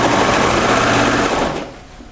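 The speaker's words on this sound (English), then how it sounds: "sewing the side seam and the side seams together with the sleeve" Close, loud sewing machine stitching side seams of a French terry sweater, a brief steady whirring run that cuts off near the end, with no talk.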